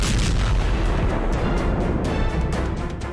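Explosions in the Kherson region as a retreating Russian army blows up bridges: a loud, continuous roar of booming blasts and crackling debris that rolls on without pause, easing slightly near the end.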